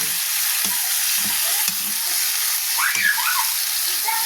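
Close, steady sizzling of garlic and onion sautéing in a hot pan, with a few clinks of a utensil stirring and faint voices in the background.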